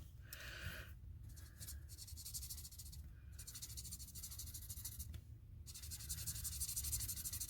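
A yellow marker colors over black ink on card, a series of dry scratchy rubbing strokes in repeated bursts separated by short pauses, close and quiet.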